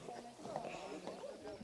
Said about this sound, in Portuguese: Mari, o que você está achando aí de participar dessa cavalgada